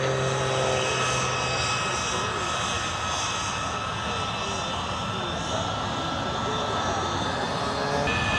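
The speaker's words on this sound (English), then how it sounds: "Oh, a lot of planes are coming now. A lot of jets." Aircraft flying over the Oshkosh airshow, a loud continuous engine roar that fills the air and holds steady throughout, with spectators talking faintly beneath it.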